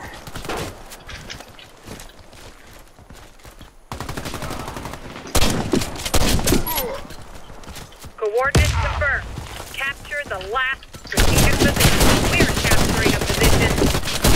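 Rapid gunfire rattles through an online shooter match where players are spawn killing, with repeated bursts and shots in loud stretches. A voice talks over parts of the action.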